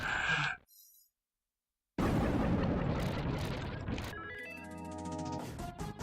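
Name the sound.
boss explosion in the video game Axelay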